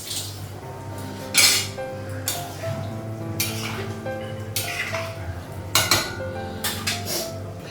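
A metal lid comes off a pot of Bengali egg and potato curry simmering on a gas stove, giving a few sharp metallic clinks and clatters over a steady low kitchen hum.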